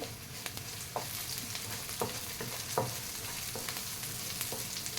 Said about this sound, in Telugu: ఆనియన్ మంచిగా ఫ్రై చేయాలి